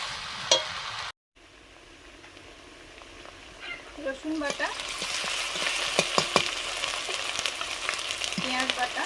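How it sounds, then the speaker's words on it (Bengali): Fried fish bones sizzling in a pan with vegetables and spices, a steady soft frying hiss with intermittent crackles and stirring clatter, growing busier after a brief gap, while a voice talks over it. "বেশ কিছু সময় মশলার সঙ্গে সবজিটা কষানোর পরে মাছের কাঁটাগুলো দিয়ে দিয়েছি"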